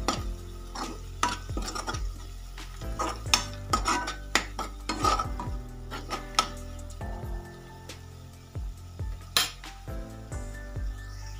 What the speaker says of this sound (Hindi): इस स्टेज पे आप इकट्ठी हुई एक हरी मिर्च को डाल दें ताकि ये अच्छे से फ्राई हो चुके